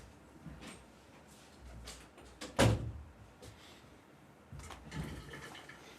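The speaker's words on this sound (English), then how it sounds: "Hold on, let me close my door." A single door swings shut partway through with one firm, loud knock standing out over a quiet room, followed by a softer thud or shuffle later on.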